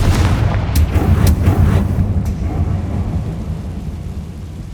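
A Confringo blasting spell explosion in the Hogwarts Legacy video game lands as a loud, close, rumbling boom with crackling bursts, decaying into a long low roar.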